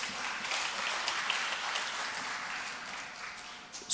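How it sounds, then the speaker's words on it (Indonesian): Sustained audience applause at a ceremony inaugurating the Early Childhood Education patron for Badung Regency, a dense, even spread of many hands clapping for several seconds. "Tepuk tangan dulu ini."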